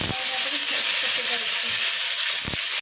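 Paneer sizzles in a hot pan, a steady loud frying hiss that runs without a break, with a few faint clinks underneath.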